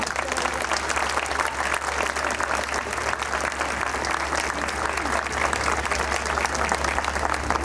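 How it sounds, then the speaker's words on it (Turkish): Sustained, dense applause from a concert audience at a choir performance in Bodrum, steady and full for several seconds with a low hum underneath and no talking. "bir maşallah alkışı istiyorum"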